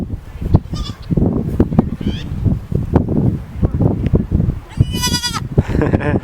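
Goats on a goat farm bleating, with several high, wavering calls rising over nearby talking and shuffling, one loud drawn-out bleat standing out near the end.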